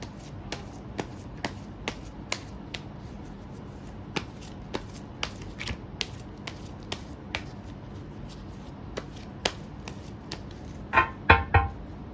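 Tarot cards being shuffled by hand, with sharp, evenly spaced card snaps repeating across the whole stretch and a busier burst of riffling near the end, close and clear with no talking.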